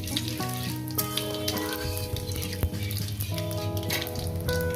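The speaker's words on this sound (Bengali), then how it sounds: "জিরে দিয়ে দিলাম" Cumin seeds sizzle and crackle in hot oil for a Bengali vegetarian pumpkin, potato and pointed gourd dish. The frying hiss is steady and close, with a tonal hum running underneath.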